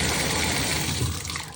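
Water rushes steadily down a freshly cleaned, unclogged drain, a continuous close gushing flow that tapers slightly at the end, with no voices.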